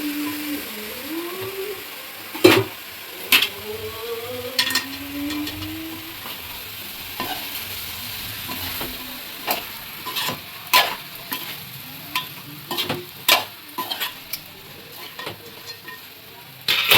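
Large-cut brinjal pieces fry in a pan for a masala curry, giving a low, steady sizzle broken by repeated scraping and clanking strokes of a spatula as they are stirred, irregular and close.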